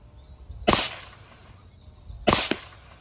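Two sharp, loud reports sound about a second and a half apart from a .223 rifle firing at a target outdoors, each a crisp crack followed by a brief secondary snap of impact, with quiet in between.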